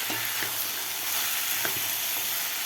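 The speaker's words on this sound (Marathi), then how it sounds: "व्यवस्थित आपल्याला भाज्या परतून घ्यायच्या आहेत" Vegetables and peas sauté in ghee with masala for bajra khichdi, a steady close sizzle broken by a few soft stirring knocks, with no voices.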